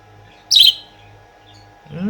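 A pet parrot gives one bright, high chirping call close by, and a voice speaks just afterward over a low steady hum.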